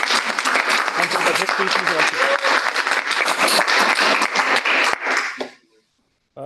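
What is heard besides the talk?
audience applause for the organizers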